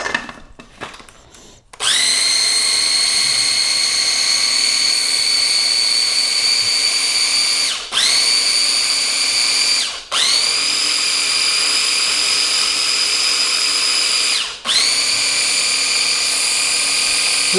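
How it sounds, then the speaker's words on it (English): Blender whirring through a high-protein chocolate mousse with chocolate peanut butter protein powder, a loud steady high-pitched motor whine in long runs, briefly dipping and restarting three times, with no talk. "Just takes a few minutes blending it up."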